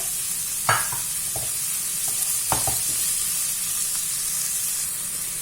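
Meat for paninis, seasoned with salt and pepper, sizzles steadily in a frying pan while a utensil scrapes and presses it in a few short clattering strokes, close and moderately loud, with no talking.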